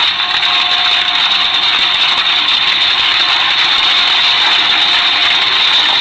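A loud, steady mechanical roar of an electric wood chipper grinding through material, continuous and dense with no pauses.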